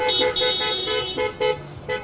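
Car horns honk repeatedly at a Pasco County teachers' rally calling for safe school reopening, with several loud, overlapping blasts of varying length coming in close succession.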